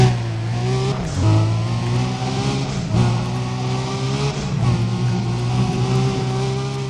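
A race car's engine roars and revs steadily in Need for Speed: Undercover, pitch climbing and dipping through several gear shifts while overtaking rivals, loud and close with no talk.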